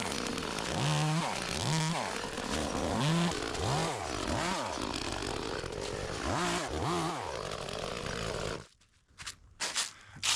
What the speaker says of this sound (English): I know you're probably thinking he should have 2 hands on that chainsaw.